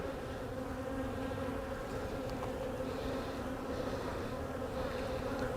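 A hive of honeybees that is infested with small hive beetle larvae and agitated after having supers added, producing a dense, steady buzzing swarm that stays close and fills the whole stretch without a break.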